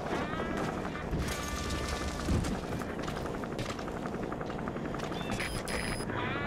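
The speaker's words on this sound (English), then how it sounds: "helicopter's coming back this way" A helicopter flies overhead in Metal Gear Solid V: The Phantom Pain, a steady loud rotor chop with a dense engine whine that fills the scene throughout, while other game sounds come and go.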